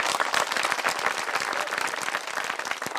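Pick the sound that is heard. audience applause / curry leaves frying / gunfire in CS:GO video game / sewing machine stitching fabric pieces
audience applause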